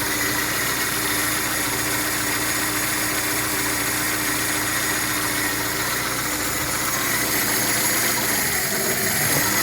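A UAZ 2.4 engine fitted with a Solex carburetor and gas inserts, idling steadily and loudly up close in a continuous mechanical drone with a fine, even vibration.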